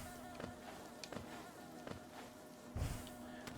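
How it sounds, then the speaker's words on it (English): Insect buzzing in the Greenpath area of Hollow Knight, a steady hum with a few soft clicks and a low thump near the end, quiet and alone. "Look, we're right by the bees"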